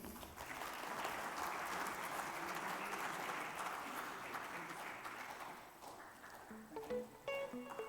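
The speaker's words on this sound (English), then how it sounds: "Let's have a round of applause, please." A conference hall audience at a business roadshow in Dubai applauds steadily for about six seconds before the clapping thins out and gives way to faint background sounds.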